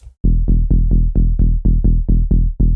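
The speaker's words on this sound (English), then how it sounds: "we're going to use the bass Bugatti that sounds like this" The Bugatti bass preset from the Grid 3 synth pack plays a quick run of about a dozen evenly spaced, punchy low notes, each a bright attack decaying fast, loud and alone.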